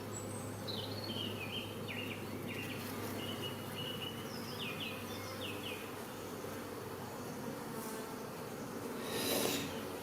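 Honeybees humming in an opened beehive during an apiary visit, a steady insect drone with scattered buzzy bursts of individual bees close to the microphone, with no talking.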